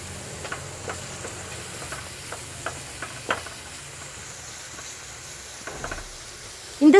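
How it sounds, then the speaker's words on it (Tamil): Egg curry gravy sautéing lightly in oil in a pan, a soft steady sizzle with faint scattered ticks and stirring scrapes, close and fairly quiet, ending in a louder clatter. "பச்சை வாசனை போகிற வரையும் லைட்டாக நம்ம வந்து வதக்கி விட்டுக்கலாம்."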